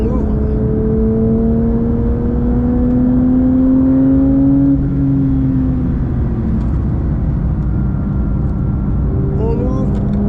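A Porsche 911 GT3 992.1 accelerates on track at Spa, its engine note climbing steadily under throttle, dropping after a gear change and pulling again, with a voice talking over the cabin noise.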